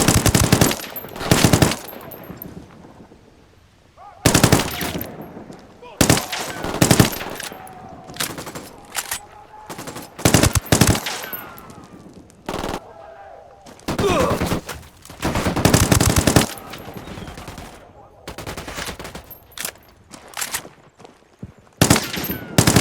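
Machine gun fire in the video game Ghost Recon Wildlands, loud, close bursts of rapid automatic shots that come in repeated clusters with short quiet gaps between them.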